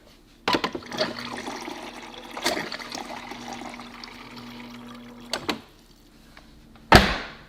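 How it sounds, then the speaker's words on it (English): Water pours from a Samsung Bespoke refrigerator's door dispenser in a steady rush of about five seconds over a low motor hum, starting and stopping with soft clicks, followed by a sharp knock. "now we need to dispense about 2 cups of water from the dispenser"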